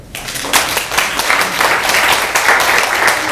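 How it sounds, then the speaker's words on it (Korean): A university audience breaks into steady applause, many hands clapping together in a dense, sustained patter with no one speaking over it. "박수 한번 보내주는 게 어떨까요"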